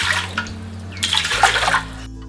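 Water is poured onto ragi flour in a kitchen, a brief splashing, gurgling flow lasting about two seconds, close to the microphone, with no speech.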